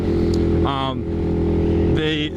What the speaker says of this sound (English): One of the things I notice about this bike instantly is how easy it is to just lay it into a corner.